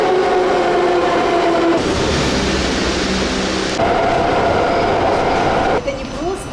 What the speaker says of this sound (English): now we are going to be hopping on the metro to go in that direction.